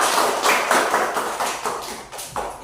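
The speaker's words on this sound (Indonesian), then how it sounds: "Tepuk tangan untuk SD 5." A group of schoolchildren from class SD 5 claps in a classroom, with a steady run of fairly close, bright hand claps and a few taps standing out near the end.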